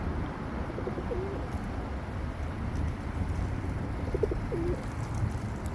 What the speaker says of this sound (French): Moi j'aime pas trop les pigeons en fait.